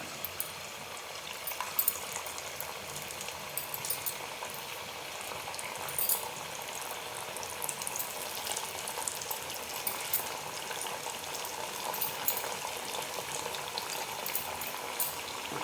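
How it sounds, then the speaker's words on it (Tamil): Rolled chapatis frying in hot oil in a pan over a medium flame, giving a steady, soft bubbling sizzle that runs continuously and evenly throughout. "அடுப்பை மீடியம் ஃப்ளேமில் வச்சுட்டு நம்ம தேய்ச்சி வச்சுருக்க அந்த சப்பாத்திகளையெல்லாம் இதில் போட்டுடலாம்"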